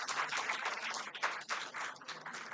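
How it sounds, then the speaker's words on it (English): At a cancer-centre awareness event in Hyderabad, an audience claps steadily for the Purple Clip Brigade women. The applause is a dense, continuous patter of many hands, moderately distant and fairly soft. "give a big round of applause to this 52 young women"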